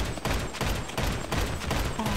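Rapid bursts of machine gun fire from a GTA Online shootout, loud and dense, with volleys running almost continuously through the short stretch.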